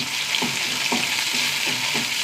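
Sliced shallots and curry leaves fry steadily in a pan, a dense continuous sizzle with soft stirring scrapes recurring about every half second, close and alone without talk.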